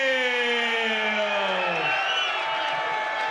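A boxing arena crowd cheers and whoops loudly and steadily for fighter George Barksdale at a 1998 ballroom boxing event, a dense sustained roar with rising and falling shouts.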